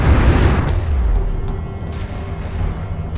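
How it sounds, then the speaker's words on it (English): Airstrike explosions in the strategy game Homeworld: Deserts of Kharak, a loud deep boom at the start rolling into a long rumbling decay with fainter impacts trailing off. "Enemy airstrike inbound."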